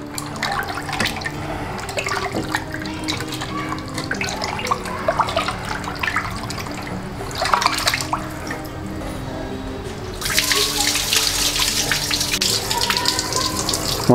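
Tap water gushes and splashes steadily while about one and a half kilograms of bone-in fish pieces are rinsed in a bowl, with a louder, brighter rush of pouring near the end.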